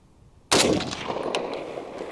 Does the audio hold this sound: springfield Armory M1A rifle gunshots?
yes